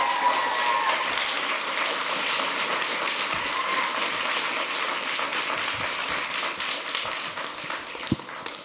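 A team applauding at a city council meeting: steady, dense clapping from a group that continues throughout at an even level, with a faint thump near the end.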